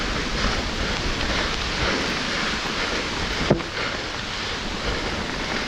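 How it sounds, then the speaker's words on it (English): Heavy rain pours down steadily on a mountain run called Royale, a dense continuous hiss with no voices and one brief knock partway through. "it's flat out pouring down here"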